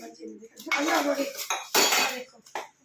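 Dishes and utensils being washed by hand at home, with metal pots and cutlery clattering and scraping in irregular close bursts, with short pauses between them.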